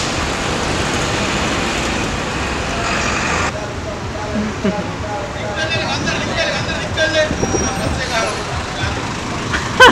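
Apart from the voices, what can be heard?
buses in Colombo street traffic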